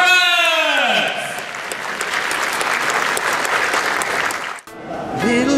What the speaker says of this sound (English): our applause for WPA International Congress!